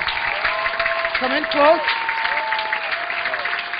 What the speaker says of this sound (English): Give the lady a round of applause.